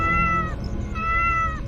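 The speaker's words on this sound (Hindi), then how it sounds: "इससे बिल्ली की आवाज शेर जैसी लगने से मेरा ही फायदा हो रहा है।" A cat lets out two drawn-out meows in a row, close and loud, each bending downward at the end, over a low rumbling background.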